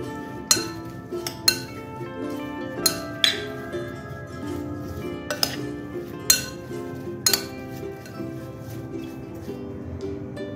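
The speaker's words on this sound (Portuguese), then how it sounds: "Vou misturar." Chopped, peeled pears being stirred with brown sugar in a bowl, giving irregular clinks and scrapes of a utensil against the dish, close and clear with no talking.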